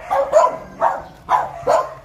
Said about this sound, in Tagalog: dami nilang aso